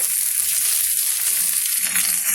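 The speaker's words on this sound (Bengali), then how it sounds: "এবারে আমি পনিরের টিক্কাগুলো একটা একটা ভেজে নেব" Paneer tikka pieces frying in hot oil, a steady loud hissing sizzle with faint crackles throughout, close up, no talk.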